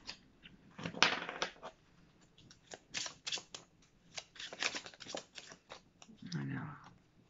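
Tarot cards are handled and laid out on a surface in a string of soft, papery riffles, flicks and taps, close and quiet, arriving in short irregular bursts with brief pauses between.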